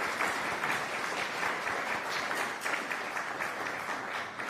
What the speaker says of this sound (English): Maybe a brief round of applause for Prime Minister